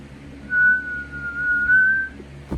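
A single wavering whistled tone held for nearly two seconds, thin and breathy, with a faint low hum beneath it.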